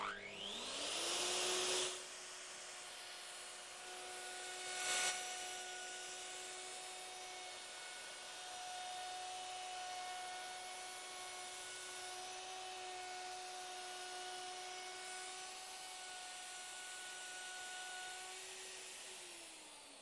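A Festool OF 2200 router spins up with a whooshing start, then holds a steady high-pitched whine with tonal hums across its run, fairly loud and alone, with a brief bump partway through, before winding down at the end.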